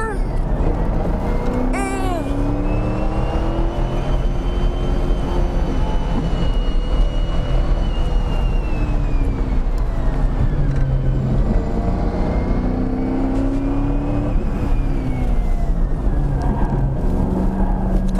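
Race car engine on a track, a loud continuous close drone whose pitch climbs and falls as the car shifts up to third gear, with someone talking over it.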